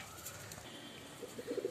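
Domestic pigeon cooing faintly in a loft among pet pigeons, a low, throaty coo rising near the end against soft background noise.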